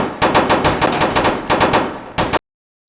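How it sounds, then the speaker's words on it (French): Rapid automatic gunfire in a roleplay video game, loud and close in fast repeated bursts with a brief pause, then a final burst before cutting to silence; no speech. "Les gars, ça fait coup de feu cité."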